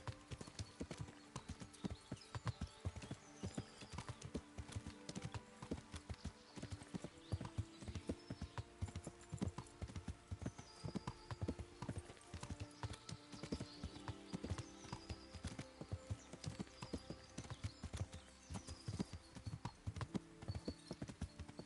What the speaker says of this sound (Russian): как ей управлять этой лошадью?